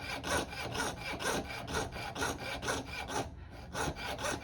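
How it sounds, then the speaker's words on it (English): A jeweler's saw rasps back and forth through metal in quick, even strokes, close up and continuous, with a brief pause near the end. "I'm sawing as I turn to kind of make the room"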